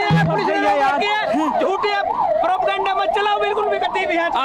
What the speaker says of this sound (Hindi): फिलहाल एक एम्बुलेंस यहाँ पर फंस गई है